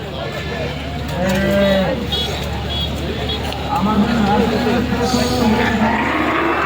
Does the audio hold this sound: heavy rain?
no